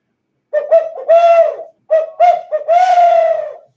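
A person imitates an owl with a series of hooting calls, as a turkey-hunting locator call, several short hoots followed by a longer drawn-out one, clear and close in quiet surroundings.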